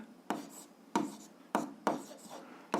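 A pen writes numbers on paper during a seventh-grade algebra exercise: five quick scratchy strokes, each a short burst that fades, close and fairly clear.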